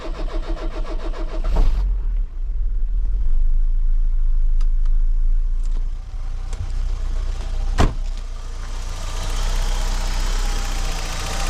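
An engine turns over and catches, then settles into a steady, close idle with a deep low rumble, a sharp click or two breaking through midway.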